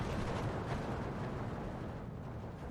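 A grenade explosion in the Steel Division 2 World War II strategy game, heard as a dense, continuous low rumble of blast and battle noise that fills the whole stretch at steady loudness, with no voices.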